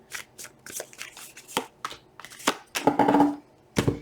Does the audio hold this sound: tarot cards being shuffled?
yes